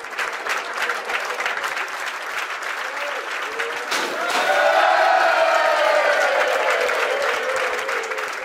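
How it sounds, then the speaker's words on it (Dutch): Applause from a Dutch football club crowd welcoming a player back, a steady wash of clapping with some cheering that swells louder about halfway through, with faint talk underneath. "Want dat ging met confetti en applaus,"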